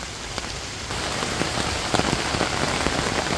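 Heavy rain pours on a mountainside, a dense constant hiss with scattered sharper drops striking nearby surfaces, loud and unbroken, with no voices.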